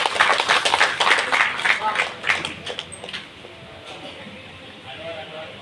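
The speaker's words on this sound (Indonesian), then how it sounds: "Tepuk tangan hadirin sekalian." An audience at a community learning centre's study-visit event in Tangerang claps, with irregular hand claps strongest early on that fade to a quiet room, ending with faint background noise and a high tone.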